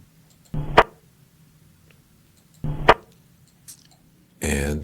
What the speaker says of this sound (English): we have the sound of the gunshot.